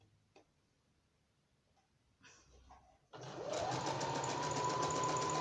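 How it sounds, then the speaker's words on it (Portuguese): A sewing machine runs steadily along the edge of a fabric notebook cover, starting after a few quiet seconds with faint handling, then humming loud and continuous to the end, a rapid stitching whir close by. "Essa costurinha a gente vai fazer em cima daquela primeira costurinha que a gente fez."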